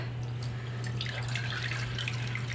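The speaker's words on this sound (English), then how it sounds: "just really get this all rinsed out here." Water runs steadily from a tap while an Enviro cloth is rinsed and wrung under the stream, a close continuous splashing wash with a constant low hum underneath and no talk.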